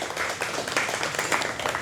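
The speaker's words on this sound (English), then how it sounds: "So let's clap hands for the Cultured Republic" Audience applause at a corporate event stage program, a steady dense wash of many hands clapping throughout, moderately loud with no clear pauses.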